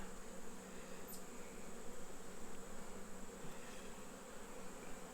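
A soft, steady hum of many honey bees buzzing together on a hive frame, faint and continuous, with an occasional louder bee passing close.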